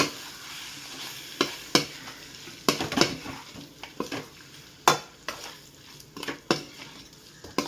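Chettinad chicken chukka with coriander is stirred in a pan over a soft sizzle, with repeated sharp spoon clinks and scrapes against the metal at an uneven rhythm, close and fairly quiet.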